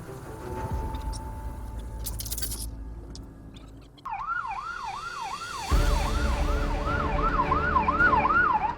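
A wailing emergency siren rises and falls in rapid cycles, growing louder as a vehicle approaches over steady road and engine noise.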